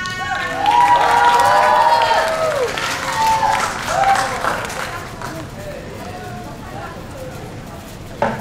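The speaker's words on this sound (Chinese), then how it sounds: "希望大家可以给他们一点尖叫跟掌声" Audience at a student guitar club's independent concert screams and cheers with applause, loud at first and gradually tapering, with excited voices shouting over the clapping.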